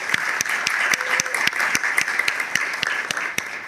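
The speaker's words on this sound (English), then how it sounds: "just want to first give a round of applause to Wendy for her hard work" A small audience at a school board meeting applauds Wendy, with distinct sharp individual claps standing out over a steady bed of clapping from the room.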